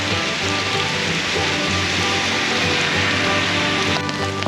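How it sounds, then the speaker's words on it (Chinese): Heavy rain pounding steadily on nearby surfaces, a loud dense patter that stays constant throughout with no voices. "下大雨了，终于我的小伞撑不住"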